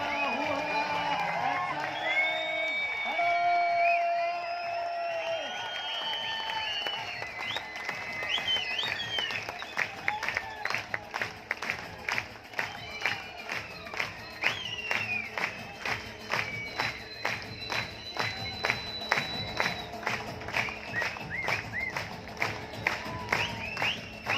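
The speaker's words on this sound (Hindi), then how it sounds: "सब लोगों को खड़े होकर ताली बजानी चाहिए" A standing audience at a Mumbai seminar starts with loud shouting and cheering voices, then settles into rhythmic, unison clapping that keeps a steady beat to the end, with an occasional whistle over the crowd.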